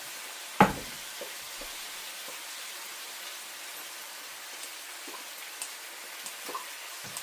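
Onions cooking in fig preserves for a fig-bacon jam, with a faint, steady sizzle, soft stirring ticks and one sharp knock near the start.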